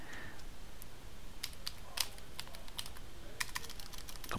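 Someone types a password on a computer keyboard at an Ubuntu terminal, making quiet, close, irregular key clicks in short bursts with no talk.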